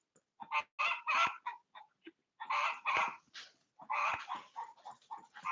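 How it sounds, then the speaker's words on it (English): A hen gives a run of loud, squawky clucks in bursts separated by short pauses, close and alone. "I have a very vocal hen right now"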